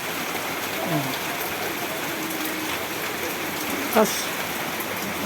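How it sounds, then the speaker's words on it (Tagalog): Steady rain hisses continuously behind a house, with a faint voice and a brief knock or clatter partway through. "Ulan."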